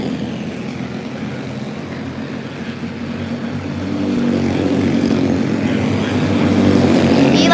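Honda race cars in a heat race on a track, engines droning steadily nearby and swelling louder as the cars close in and pass, with no clear talk over the engine noise.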